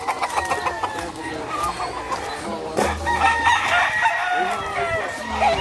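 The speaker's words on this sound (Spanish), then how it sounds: "Y ese gallo se puso por aquí cerca." Roosters at a cockfighting farm crow repeatedly, several calls overlapping near and farther off, with clucking fowl and people talking in the background.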